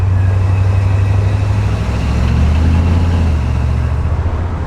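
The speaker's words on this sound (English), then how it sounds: "the old secondaries are opening now" A Ford Mustang engine drones loud and close as its carburetor secondaries open, a heavy, sustained mechanical roar that holds steady for several seconds without letting up.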